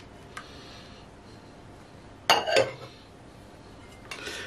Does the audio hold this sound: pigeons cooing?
no